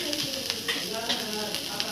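Two tablespoons of butter melting in a pan for a creamy white sauce give a steady, close sizzle with light stirring scrapes, while a voice talks over it.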